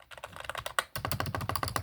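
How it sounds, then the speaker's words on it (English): An inexpensive quiet membrane computer keyboard is typed on at close range, a rapid run of soft muted key presses with one brief pause partway through, no voices. "you want a membrane keyboard that's not trash, this one is recommended"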